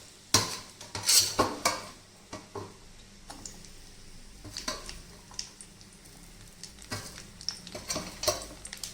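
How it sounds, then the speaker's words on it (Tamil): Date and fig paste sautéed in a pan for a sugarless dry fruit burfi, with a spoon scraping and knocking against the metal in quick bursts over a low sizzle. The sound is close and clear, with no voices. "இப்போ நாம இந்த பேரிச்சையும் அத்திப்பழ பேஸ்ட்டையும் இதில் போட்டு நல்லா வதக்க போகிறோம்."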